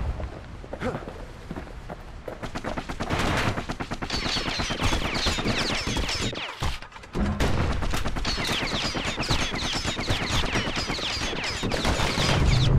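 Guns fire rapidly in the game Bastion, a dense stream of sharp repeated shots with a brief pause near the middle before the volley resumes, loud and busy throughout.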